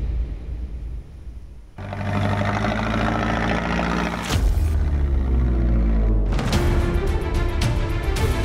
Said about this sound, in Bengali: বড় বড় ঢেউ মাঝিও সামলে নিয়ে ট্রলার চালাচ্ছেন